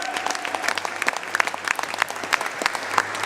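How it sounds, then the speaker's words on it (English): An audience claps steadily throughout, a dense continuous applause from a crowd at a spoken-word or lecture event, fairly close and alone without talk. "You better clap."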